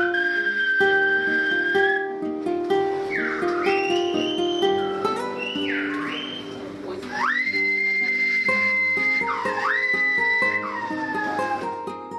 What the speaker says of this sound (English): an entertaining display of the whistling language of La Gomera